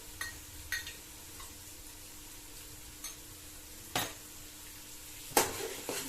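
Concentrated tomato paste is stirred into a base sauce frying in a pot, giving a soft continuous sizzle with a few sharp clicks and knocks of the spoon against the pot, the loudest near the end, and no talking.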